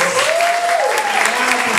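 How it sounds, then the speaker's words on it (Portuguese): Audience applause at a municipal ceremony in Caxias marking the bicentennial of independence, a dense steady wash of clapping with a sustained tone and faint voices over it. "que eu peço uma salva de palmas."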